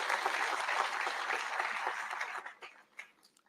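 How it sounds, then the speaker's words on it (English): Audience applause for President Ruto at a university graduation ceremony in Nairobi, a dense crowd clapping loudly for about two and a half seconds, then thinning into a few scattered last claps. "Another round of applause to the President."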